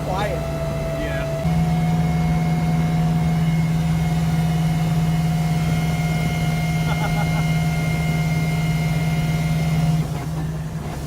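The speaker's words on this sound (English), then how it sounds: "Man, that diff is loud." Interior of a 1JZ-swapped FC RX7 drift car under way, with a loud steady whine from the differential droning over engine and road noise, and someone talking over it.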